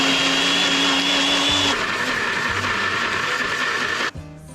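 A blender whizzes curry paste made with coriander roots, kaffir lime peels and liquid, giving a loud, close, continuous whine whose pitch drops as the mix loosens, then cuts off near the end.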